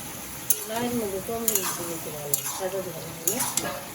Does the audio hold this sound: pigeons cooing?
no